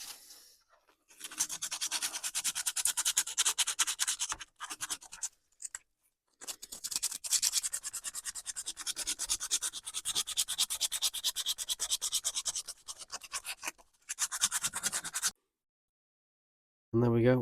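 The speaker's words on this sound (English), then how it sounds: "And just need to give it a good sand now." Sandpaper rubs steadily against a small whittled wooden snail, a close, rasping scratch in long bursts broken by brief pauses, with no talking.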